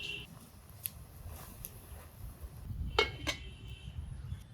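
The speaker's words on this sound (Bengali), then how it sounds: "নুন দিয়ে শাক তো উনুনে ঢাকা দিচ্ছি" A lid goes over a karai of salted data shak (amaranth stem greens) on a stove, with two light metallic clinks close together against a faint, quiet kitchen background.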